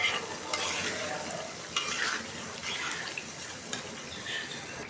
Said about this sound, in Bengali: যে তেলে দিয়ে দিলাম ভুড়িগুলা, পাতিল চেঞ্জ করে দিলাম।